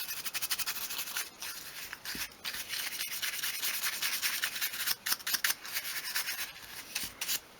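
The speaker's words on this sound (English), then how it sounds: "I'm just going to use a soft brush just to sweep away the sanding" Steady bristly strokes of a soft brush sweep sanding dust back and forth across small wooden dollhouse furniture, close by, with a dry scratchy texture.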